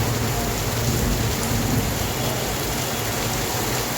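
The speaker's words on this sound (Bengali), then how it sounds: "যেমন বাতাস তেমন বৃষ্টি" Heavy rain pours steadily in strong wind after a spell of intense heat, with a loud, dense hiss and a faint low thunder rumble that never lets up.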